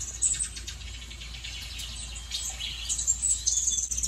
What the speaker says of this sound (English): There's birds in the TV.